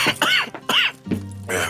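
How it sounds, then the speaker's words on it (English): Arthur Morgan, the outlaw in the video game Red Dead Redemption 2, breaks into a harsh, uncontrollable coughing fit: four loud, close hacking bursts with raspy throat-clearing between them. "Arthur has an episode of uncontrollable coughing and blacks out"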